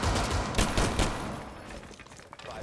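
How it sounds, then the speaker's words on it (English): Pistols fire in a competitive video game match: a few sharp, closely spaced shots come early, then sparser, quieter pops trail off over background game noise. "Pistols being used to do all sorts of damage here in the game."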